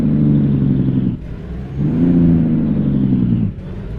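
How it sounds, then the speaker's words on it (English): An International Paystar 5070 logging truck in American Truck Simulator engine brakes with a loud, deep rumbling drone that surges in two long pulses with a brief dip between them. "Let's do some quick engine braking."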